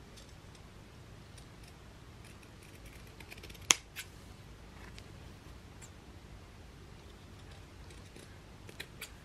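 Fabric scissors snip away excess material on a sewn baby romper, producing faint, quiet clicks and cuts scattered over a soft background, with one sharper snip standing out.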